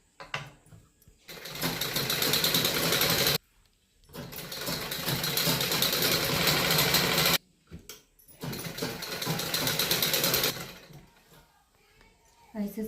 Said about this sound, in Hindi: अब आधा इंच के कपड़ा लेके हम ऐसे सीधो सीध सिलाई लगा देंगे।